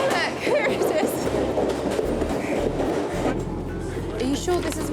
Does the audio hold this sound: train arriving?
yes